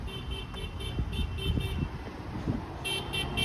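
Along Dundas Street East in Mississauga, a car horn gives a series of short rapid honks, then a louder burst near the end, all over steady road traffic noise without talk.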